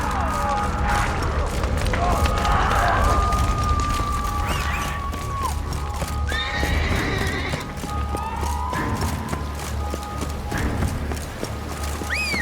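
Roach, a horse in The Witcher 3: Blood and Wine, gallops with steady rhythmic hoofbeats and an occasional whinny, layered over game music and ambience.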